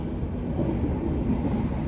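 A Manahan executive passenger train, pulled by a red locomotive, rolls along the rails with a constant low rumbling roar and faint rhythmic clatter, heard from inside at close range without talking.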